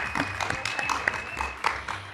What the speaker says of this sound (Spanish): Un aplauso, por un favor.